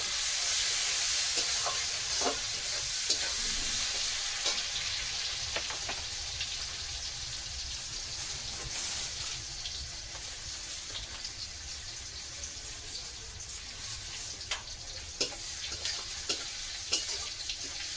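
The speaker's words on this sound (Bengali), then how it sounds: "একটু করে ভাজা ভাজা করে নেব" Onions fry in a pan with cumin, a steady hissing sizzle that runs throughout at moderate loudness, broken by occasional stirring clicks and scrapes.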